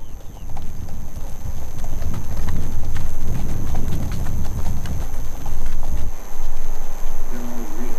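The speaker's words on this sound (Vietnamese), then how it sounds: "Ngựa được nuôi lớn bởi những người du mục sống gần gũi với thiên nhiên." Hooves of horses raised by nomads clip-clop steadily on open Central Asian ground, a loud continuous walking rhythm over outdoor wind noise, with a brief change in the background near the end.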